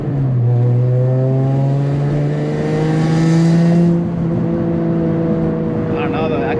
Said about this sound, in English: I can hear the exhaust leak and it sounds like crap.